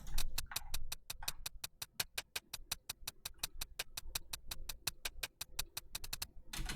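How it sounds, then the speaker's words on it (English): Three layered hi-hats tick crisply and quietly in a fast, even pattern with a few accented hits over a soft low thump. "all 3 hi-hats kind of sound like this together"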